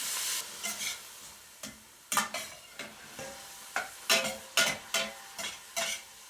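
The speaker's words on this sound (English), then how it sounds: "Everything's really nicely caramelizing here." Vegetables for cabbage rolls sizzle and caramelize in a hot pan under a steady frying hiss, while a utensil stirs them in a regular series of scraping strokes, close and continuous.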